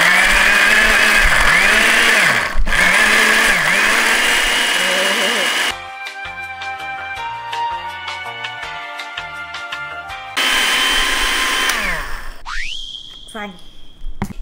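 A kitchen blender whirs loudly, blending fruit with grapes, its motor whine steady and close, cut off by a stretch of music before the grinding resumes and winds down.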